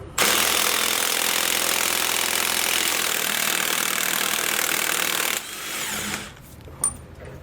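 Impact wrench with a 1 1/8 inch socket removing steering stabilizer nuts on a 2018 Entegra Coach Insignia motorhome: a loud, close, continuous hammering buzz for about five seconds that cuts off, followed by faint clinks.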